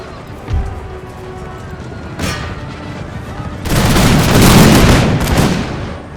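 Musket volleys in Empire Total War, an American Revolution battle: scattered shots early, then a long, loud, dense rolling fusillade of massed gunfire, with battlefield clatter underneath.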